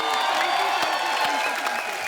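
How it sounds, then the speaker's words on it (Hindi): Studio audience on a TV comedy show claps for a celebrity guest, a dense, steady burst of applause with a few sharper claps standing out near the front, under faint crowd cheering. "एक बार सबसे पहले तो फराह मैम के लिए जोरदार तालियां।"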